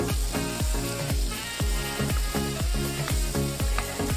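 White onions fry in a pan during a cooking demo, giving a steady, dense sizzle that continues over a thumping rhythmic beat.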